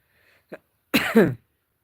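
A single short cough, then a louder, rough burst of coughing about a second later, close to the microphone with silence around it.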